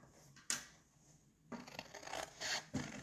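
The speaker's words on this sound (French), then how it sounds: "donc on découpe notre petite partie extérieure" Scissors snipping around the outer part of a paper Easter basket: a sharp cut, then a series of close, quiet rustling slices and paper scrapes, with no talking.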